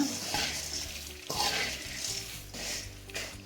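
Garlic-laced kara pori, spicy puffed rice, frying in a pan: a steady loud sizzle with repeated scraping swells as a spoon stirs the grains, about every second, with no talking.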